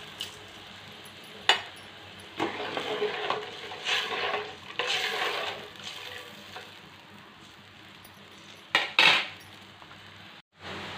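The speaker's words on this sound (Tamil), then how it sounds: "நல்லா கொதிக்குது." A pot of puliyodharai (tamarind rice) mixture bubbling and simmering close by, with intermittent stirring and clinks of a utensil against the pot.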